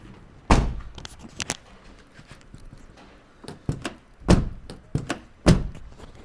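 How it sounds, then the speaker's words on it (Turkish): A car door is shut several times after a door seal fix for wind noise, producing heavy thunks at irregular intervals, some louder than others, with quiet handling noises in between. "Şimdi Ayardan sonra kapının kapanışına bir bakalım."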